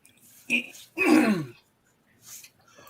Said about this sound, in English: No, I was just clearing my throat.